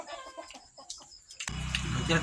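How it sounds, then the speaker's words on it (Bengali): Several roosters clucking and squawking in short bursts as they fight, with scuffling and a sudden louder burst of noisy commotion near the end. "এই দেখো মোরগগুলো সব আসতেছে বাড়ির দিকে, সব কামড়া কামড়ি করতেছে"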